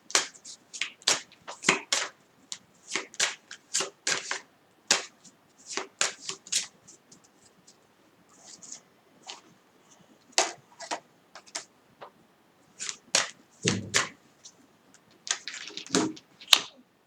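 A Zen tarot card deck is shuffled in repeated crisp bursts of riffling and slapping cards. The bursts are close and clear, with short pauses between them and no talking.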